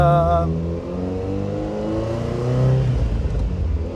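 A Ferrari 308 GTS engine drones and revs from inside the cabin, pitch climbing and falling through dogleg gearbox changes, loud and continuous.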